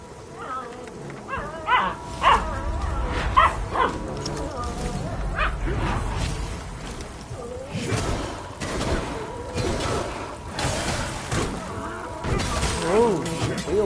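Several puppies bark and yip loudly and repeatedly in a room, with scattered whimpers and some clattering mixed in, continuing for the whole stretch.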